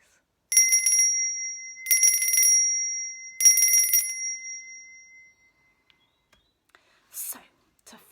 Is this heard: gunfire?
no